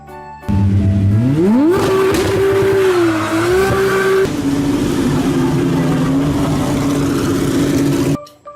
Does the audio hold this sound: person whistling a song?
no